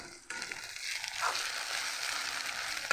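Prawn curry base in a pan sizzles and fries as chili powder goes in, with a steady close hiss that swells after a brief quiet start and keeps going on its own.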